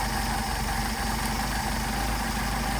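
A Mercedes 190SL engine with rebuilt carburetors idles steadily, a loud, continuous low rumble with no talk over it.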